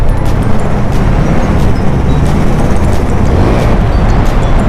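Dense road traffic surrounds an Apache RTR 200 4V motorcycle on a commute, a loud continuous rumble of engines and wind noise with no break.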